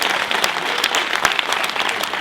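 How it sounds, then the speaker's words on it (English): Audience applause fills an evening event in Huntsville, Alabama: steady, dense clapping from a crowd, held at an even level for a couple of seconds with no talk over it. "Would you give yourselves a round of applause as we gather"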